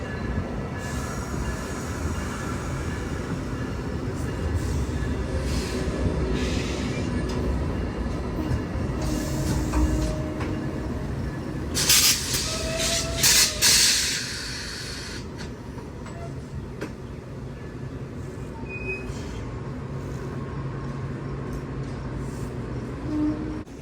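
Via Rail's new Siemens Venture passenger trainset rolls along the mainline at Coteau, Quebec, a steady loud rumble of wheels on rail with hissing, brief squealing and clanking as the cars pass close by, no talking.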